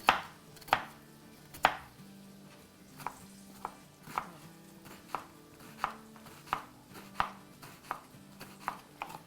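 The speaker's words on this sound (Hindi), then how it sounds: "अब इसको हम थोड़ा सा चॉप कर लेते हैं" A knife chops a peeled onion on a cutting board, with quiet, evenly spaced taps at a steady rhythm over a faint, low background hum.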